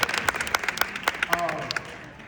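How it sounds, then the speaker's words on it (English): Audience applause at a youth empowerment keynote, a brief burst of scattered clapping from a crowd that thins out and fades within a couple of seconds. "let's clap it up for"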